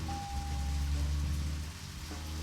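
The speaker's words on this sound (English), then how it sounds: "And now it's raining." Steady rain hiss over a low rumbling ambience in the video game Deadly Premonition, with a thin high tone fading early; continuous and moderately loud, no talking.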